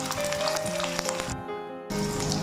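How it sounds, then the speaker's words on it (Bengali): Boiled potatoes fry in ghee in a pan, giving a steady close sizzle with some crackle and a brief dip partway through, with no one speaking. "ঘিয়ের মধ্যে এখানে 200 গ্রাম আলু সেদ্ধ করে রাখা এটি ভেজে নিচ্ছি।"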